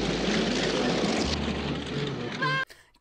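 A propeller airliner engine roars steadily at a 1960s airport boarding scene in American Graffiti, loud and close, then cuts off abruptly near the end.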